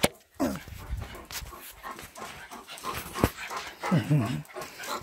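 Several dogs whimper, whine and pant close by in an uneven stream of high, wavering cries and short breathy sounds, while a person talks over them.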